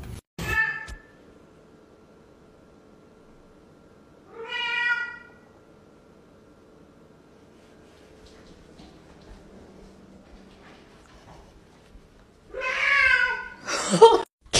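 A house cat meows several times, with a single drawn-out cry early on and a louder, longer yowl near the end, separated by quiet stretches, plus a brief burst of other sound at the very start.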